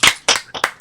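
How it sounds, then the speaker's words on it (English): A small group claps briefly in a live stream, a few loud sharp hand claps in a quick uneven burst, close to the microphone. "Round of applause."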